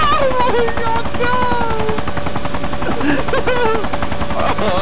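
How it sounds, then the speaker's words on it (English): An aircraft in the video game Arma 2 drones loudly and steadily throughout, close and constant, while a person talks excitedly over it. "Oh my god, there's a plane!"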